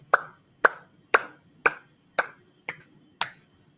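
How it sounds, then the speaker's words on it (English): A steady run of seven sharp, evenly spaced hand claps from a children's class doing a shark clap after a picture-book reading, close and clear over quiet room noise. "Shark clap."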